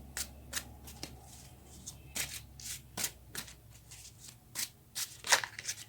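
Tarot cards are shuffled by hand in quick bursts of riffling and sliding, close and soft, with short pauses between each flurry.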